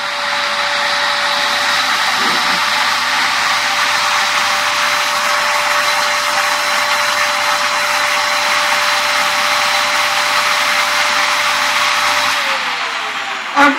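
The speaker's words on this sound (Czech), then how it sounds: "zapnu si vysavač" A household vacuum cleaner runs loudly and steadily at close range with a constant high whine and airy roar, then its pitch drops near the end as it shuts off.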